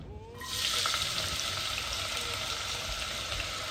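Extra virgin olive oil heated in a pot bursts into a bright, steady sizzle after a brief quiet start, a loud close hiss that continues unbroken to the end.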